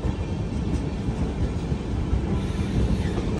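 The Visakha Express rumbles steadily along the rails near Secunderabad, a loud continuous roar of wheels and carriages heard close from on board, with no voices over it.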